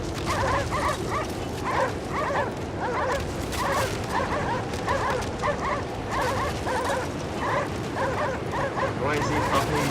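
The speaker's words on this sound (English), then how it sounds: "Noisy puppies." Dogs in the video game Cryostasis bark and yip in quick, repeated bursts over a steady noisy background, keeping up a busy, excited chorus throughout.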